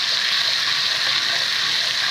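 Crushed fresh green chillies fry in hot oil for a dhaba-style chana dal tadka, making a dense, close, continuous sizzle with no pauses.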